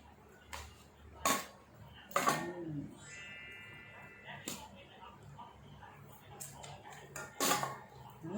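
Mango salad is tossed in a bowl, giving several sharp clinks and knocks of utensils against the dish at irregular intervals, with quieter scraping in between.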